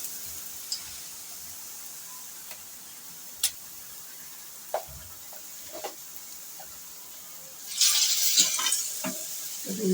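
Pappadavada frying in hot oil, a steady soft sizzle with a few faint ticks and clinks of a utensil, swelling into louder bubbling near the end.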